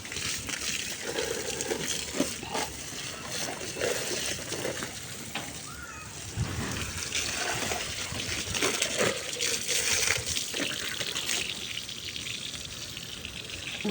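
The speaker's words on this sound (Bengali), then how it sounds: "এখন নিচের অপশনটায় পানি দিব" Water splashes and gushes steadily onto potted plants in a mulched rooftop garden, a soft continuous spray with faint shifting splashes throughout.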